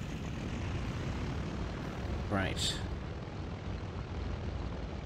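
A propeller-driven French Tier 1 fighter plane engine in War Thunder drones steadily throughout, with a brief rising whine passing through midway, while a voice speaks a single word over it.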